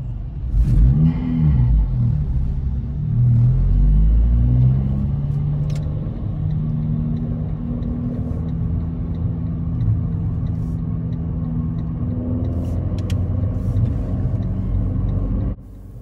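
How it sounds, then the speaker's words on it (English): A car engine labors with a loud, low droning rumble that swells and eases during a mock driving test in Tottenham, steady and close throughout before cutting off at the end. "the poor engine is working rather hard"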